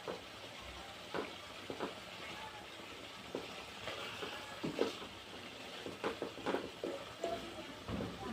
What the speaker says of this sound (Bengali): ভালো করে কষায় নিয়ে